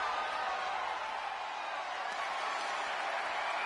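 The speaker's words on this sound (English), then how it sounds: "you hear this capacity crowd following you on that journey" A capacity crowd at a wrestling match makes a dense, steady roar of cheering and clapping, a continuous wash of noise from a large audience, distant and even in level.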